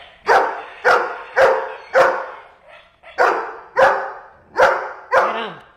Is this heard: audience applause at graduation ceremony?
no